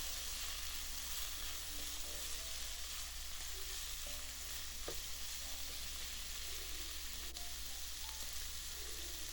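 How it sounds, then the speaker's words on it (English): Beef frying with ginger in a pot, a dense continuous sizzle and hiss held at steady level throughout, with faint intermittent stirring clinks beneath, no talking. "When you can smell the ginger, add the beef in. Stir and let it cook 1 to 2 minutes."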